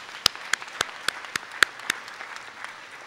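At the 2013 College Now Celebration of Excellence, an audience claps for parents and guardians. A few close, evenly spaced hand claps ring out over a faint wash of crowd applause, then fade.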